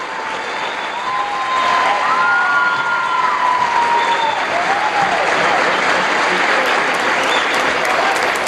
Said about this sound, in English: And fans, give them a big round of applause.